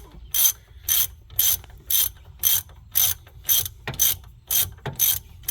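Ratchet clicking in steady bursts while tightening hub assembly bolts on a 2003 Chevy Malibu, about a dozen sharp, close ratcheting strokes in a regular rhythm with brief pauses between them, no talking.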